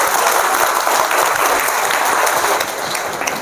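Applause from a group at a counsellor training session, a steady dense clatter of many hands clapping close by, sustained for the full stretch and tapering slightly near the end.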